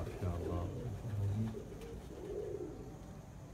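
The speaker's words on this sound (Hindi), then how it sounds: "कितने कबूतर इकट्ठे हो गए ना जी?" Racing pigeons of a champion Punjab flock settling onto a loft, with soft low cooing at moderate distance under a steady outdoor background.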